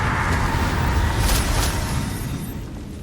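A Confringo fire spell exploding in a wizarding video game: a loud deep boom with brief crackling bursts, then a rumble that slowly fades, no voices.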